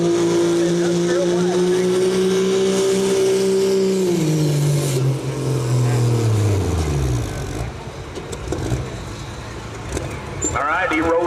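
A pulling truck in a truck-pull competition at the Fairfield County Fair in Lancaster, Ohio, its engine roaring loud and high, then winding down in pitch as it rolls to a stop, with an announcer talking over it.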